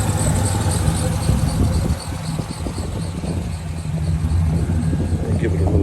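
A 1967 Chevrolet Nova idles with a steady, loud low rumble, and a brief rise in revs follows as a little throttle is given.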